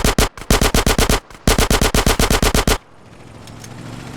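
Automatic gunfire in GTA San Andreas on PC, loud rapid bursts of evenly spaced shots, one brief burst and then a longer string that stops abruptly, leaving low background game noise.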